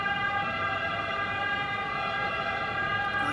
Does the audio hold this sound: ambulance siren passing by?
yes